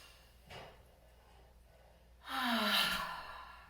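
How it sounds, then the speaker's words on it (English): A deep breath drawn in during a classroom vocal warm-up, heard as a long airy inhale with a rising breathy tone, preceded by a faint soft sound in a quiet room. "Deep breath in."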